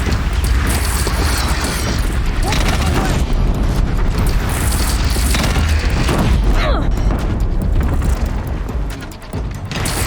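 The Deathbringer machine fires its guns in Horizon Zero Dawn, a dense, continuous barrage of loud booms and rattling bursts with mechanical clatter, voices audible beneath the onslaught.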